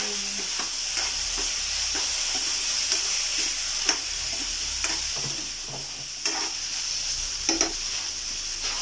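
Arroz caldo being stirred in a pot, a ladle scraping and knocking in irregular strokes over a constant close bubbling sizzle, with no voices.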